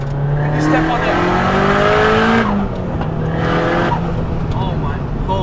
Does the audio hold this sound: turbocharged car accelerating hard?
yes